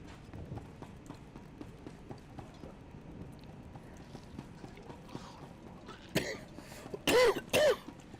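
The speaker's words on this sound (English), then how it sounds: "You got a bit of cough there" Two or three sharp coughs near the end, close by, after a stretch of quiet background with soft clicks.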